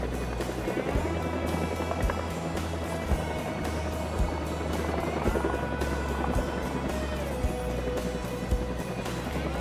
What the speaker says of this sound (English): now you see the aircraft are coming in